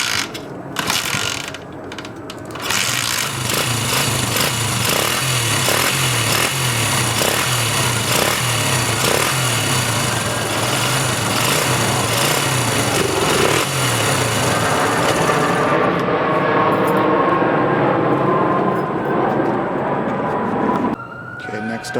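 1978 XL75 motorcycle engine running, a rapid rattling four-stroke idle with a busy mechanical clatter, close and loud, blipped revs near the start and the end, with someone talking over it.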